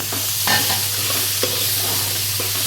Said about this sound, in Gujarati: સંભારો અહીંયા વઘારાઈ ગયો છે.